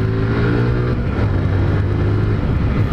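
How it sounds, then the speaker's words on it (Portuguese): An old motorcycle accelerates nearby, its engine holding a steady low drone that shifts pitch partway through and stays loud throughout. "Tem uma moto velha aqui atrás de mim, ó."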